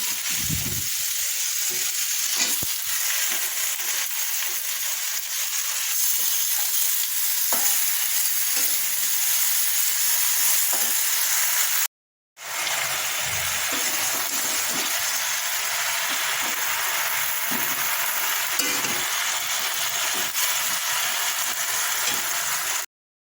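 Vegetable chorchori frying in a pan as mustard is added: a loud, constant sizzle runs throughout with occasional stirring scrapes, broken by one brief gap halfway through.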